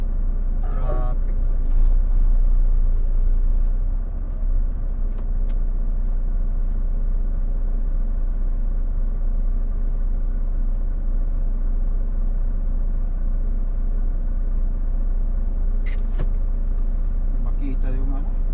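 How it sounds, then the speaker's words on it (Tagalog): Steady road traffic with cars, buses and trucks rumbling by continuously, an occasional air-brake hiss breaking through, and voices talking over the drone. "Traffic."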